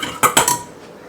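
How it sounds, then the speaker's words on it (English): A utensil stirs cucumber pickle brine in a jar or pot, making three quick clinking knocks close by, followed by a faint liquid swirl. "So I'm just going to give this a little stir."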